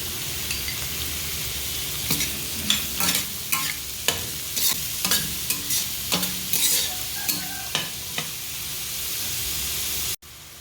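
Onions frying with turmeric and salt for an egg fry, a continuous close sizzle punctuated by a rapid series of spatula scrapes and taps against the pan, ending abruptly.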